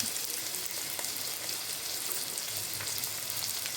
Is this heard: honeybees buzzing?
no